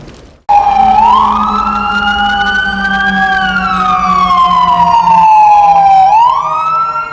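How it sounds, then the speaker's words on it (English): An emergency vehicle siren wails loudly and up close on a city street, rising and falling in a slow sweeping pitch over a low engine rumble. "the sirens make it impossible to find peace in the urban jungles"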